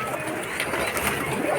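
High-flying pigeons in Nagpur coo softly in the background, low throaty calls blending with faint ambient noise.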